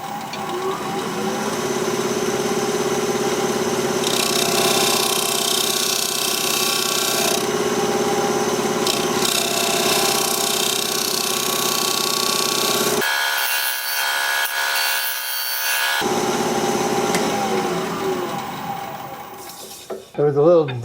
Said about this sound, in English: We're going to be turning at about 1800 RPM, 5/8 inch bowl gouge